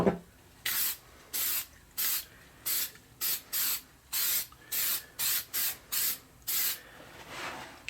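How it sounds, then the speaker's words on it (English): A can of mold release sprays inside a resin mold in about a dozen short hissing bursts, evenly spaced and close, with brief quiet gaps between each puff. "give it a good shake and then spray inside the mold, trying to get a thin coating all over on the inside surfaces"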